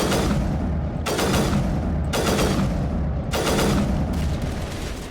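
A grenade explosion and gunfire in a video game ring out as four heavy, booming blasts in a steady rhythm, each with a rumbling tail, loud and close with no talking.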